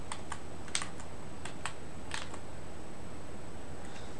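Fingers type on a computer keyboard that keeps missing keystrokes, giving a scattering of light, close clicks in short irregular runs that fade out, with no talking.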